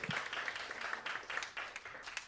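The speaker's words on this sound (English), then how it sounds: "Another round of applause." Audience applause at a student comedy night in Warwick, a steady wash of many hands clapping, fairly faint and distant, with no voices over it.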